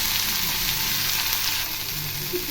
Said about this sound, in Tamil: தக்காளி போட்டுக்கோங்க இதோடைய கருவேப்பிலை கொத்தமல்லி கத்திரிக்காய் மிளகாய் இதையும் போட்டு நல்லா இதில் வதக்கிடணும்